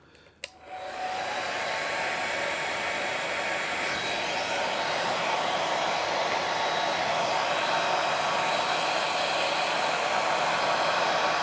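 A hair dryer blows steadily and loudly in a workshop where axe leatherwork is being polished, starting with a brief click and then holding a continuous broadband whoosh with a faint whine throughout, with no talk.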